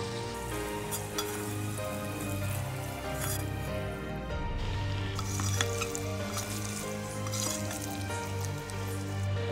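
Chicken pasta being tossed with ketchup and sauces in a pan, a steady close sizzle with soft stirring and scraping running continuously throughout.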